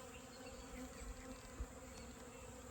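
Honeybees buzzing at an open beehive, a steady, dense hum of many insects close by, with no voices.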